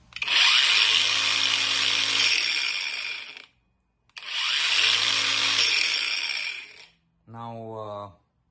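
A Temu 20V cordless angle grinder spins up in two long, loud, steady whining runs of about three seconds each, separated by a brief pause, and a short voice follows at the end.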